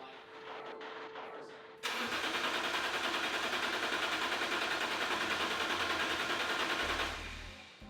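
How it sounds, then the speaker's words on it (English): An S54-swapped BMW E36 sits unstarted for years while its starter cranks in a long, steady rhythmic churn that never catches. The cranking is loud and close and follows a brief quieter stretch. "it was time to finally start this thing up for the first time in years"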